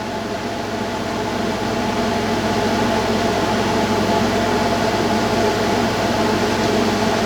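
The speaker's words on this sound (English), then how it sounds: "when the compressor on the air conditioner kicks in again" Air conditioner compressor running on battery power, a loud, steady mechanical hum and whir with a constant drone and no pauses, without speech.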